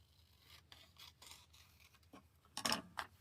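Scissors cut through a paper napkin during a collage gluebook craft session, starting as faint snips and rasps and ending in a louder close-up snip near the end. The sound is quiet and intimate, with no talk.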